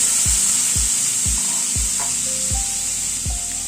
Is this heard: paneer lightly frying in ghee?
yes